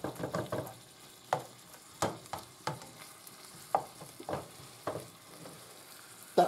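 Food sizzling in a pan on a gas stove, a soft continuous fry punctuated by repeated sharp scraping and stirring clicks at irregular intervals, fairly quiet and close.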